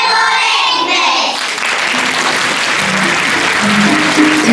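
An audience at a first-grade school event gives loud, sustained applause. The dense clapping continues without a break for the whole stretch.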